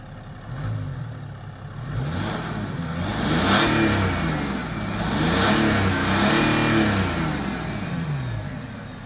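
A big Mercedes diesel saloon accelerates hard from a standstill in a 0-60 run in manual mode. The engine note climbs steadily through several gear changes, close and fairly loud, with no speech.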